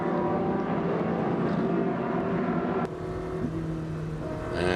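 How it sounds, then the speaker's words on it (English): Ferrari Challenge race cars from the Coppa Shell series idle and rumble steadily through the pit lane toward Parc Fermé, a close, continuous engine drone with a brief drop in level partway through. "All the cars coming down the pit lane now."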